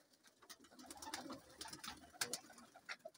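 Slate-grey pigeons coo softly in a breeding loft, several short, faint coos recurring in a loose rhythm over a quiet background.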